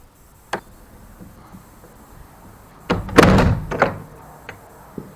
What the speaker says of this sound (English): as we go outside, open this door